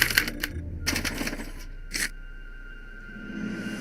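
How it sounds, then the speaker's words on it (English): A special typewriter in a Back to the Future video game prints a punch card: quick bursts of mechanical clacking and hammering, pausing, then a final clatter before a quiet hum. "they're relayed to this special typewriter, which prints out a punch card that represents the subject's mind map"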